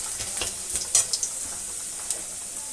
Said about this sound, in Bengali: আর আমি এই কড়াই তেলের মধ্যে এখন দেবো আদা কুচি।